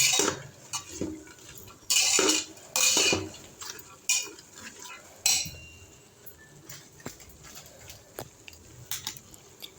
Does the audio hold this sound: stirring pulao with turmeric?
yes